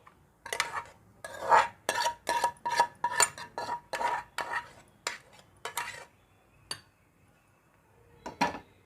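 Gongura pulusu kura being served from a pot into a dish, a series of close metallic clinks and scrapes of a spoon against cookware in an irregular rhythm, tapering off with a final clink.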